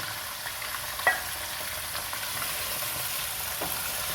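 Pieces of mutton head meat frying in a pan, a soft steady sizzle with faint stirring scrapes and one brief clink near the start, fairly quiet and close with no talking.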